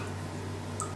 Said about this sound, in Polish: Delikatnie wyleję wodę